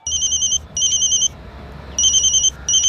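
Telephone ringing in repeated electronic bursts, two rings, a pause, then two more, clear and close with no voices.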